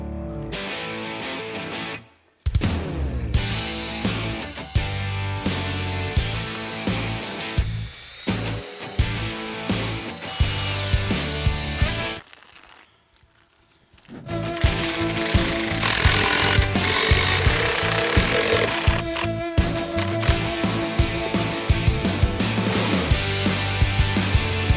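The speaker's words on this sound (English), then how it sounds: "I've got a 3/8 inch masonry drill bit" A hammer drill with a 3/8 inch masonry bit bores into a masonry wall in two long, loud grinding bursts separated by a short pause, close and continuous.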